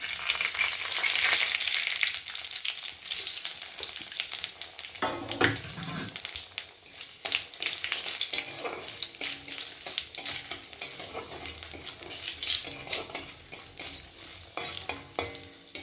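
Dried red chilies, bay leaves and five-spice seeds crackle and sizzle in hot oil for a vegetarian cabbage dish, a continuous close fry with frequent stirring scrapes throughout.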